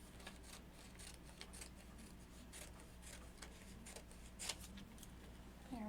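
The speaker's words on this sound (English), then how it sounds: "I'm going to go ahead and cut these two apart" Scissors snip through transfer vinyl decal sheets meant for a tumbler, producing faint, quiet cuts and light paper rustling in a still room.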